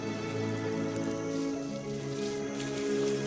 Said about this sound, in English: The first drops of rain trigger a remarkable event.